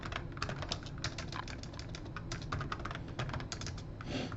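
Steady, rapid typing on an AST Advantage Explorer 4/33sx laptop's mechanical keyboard, a dense run of crisp close clicks at low volume with no voices.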